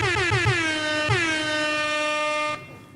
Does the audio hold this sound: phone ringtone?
no